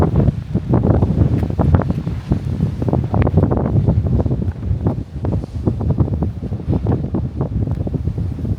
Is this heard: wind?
yes